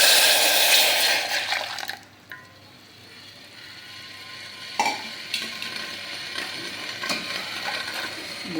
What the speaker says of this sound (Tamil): இப்போ பார்த்தீங்கன்னா இந்த வெள்ளை தண்ணியை அதில் ஆட் பண்ணிக்கலாம்.